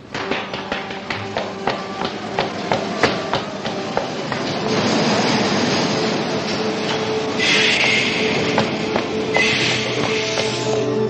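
Subway metro train in a Paris film trailer for Le Samouraï, with rhythmic clicking of wheels over rail joints at first, then a steady loud rumble and screeching brake hiss, heard alone without speech.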